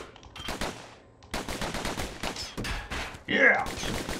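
Rapid bursts of gunfire from the video game Bastion, loud and dense with brief gaps between volleys, ending in a sharper burst.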